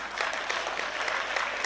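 An audience at a national Hindi poetry gathering marking Kargil Vijay Diwas breaks into brisk, dense applause, a steady patter of many hands clapping throughout.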